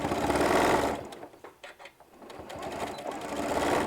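Sewing machine stitching fabric for a storage pod, running in a steady loud whir that pauses briefly mid-clip and then resumes at full speed.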